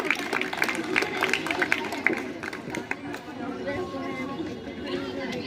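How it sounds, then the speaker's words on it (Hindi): Audience applause at a school prize ceremony at Nav Jeewan Inter College, a steady mid-level wash of clapping mixed with crowd chatter and murmuring. "जोरदार तालियां।"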